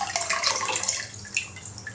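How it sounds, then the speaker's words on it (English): Water splashes and trickles briefly as a whole chicken is lifted out of hot water and lowered into a cold water bath while making white sliced chicken, steady close sloshing without speech. "Out of the hot water, we put into the cold water."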